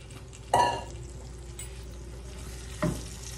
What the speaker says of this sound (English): We're going to take that okra and we're going to stir it around in here and get it cooking.